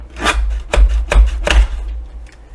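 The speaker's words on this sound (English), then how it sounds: "we're going to put this in our trimmer, and we're going to take about 1 inch off the end" An envelope trimmed by about an inch in a paper trimmer, heard as three or four close rasping slices and strokes over a low thumping rumble, with no talk.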